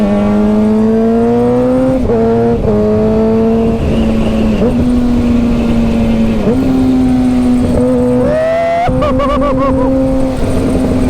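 A motorcycle engine revs loudly and close, its steady idle note climbing in repeated throttle blips and a final sharp rev near the end, with no speech over it.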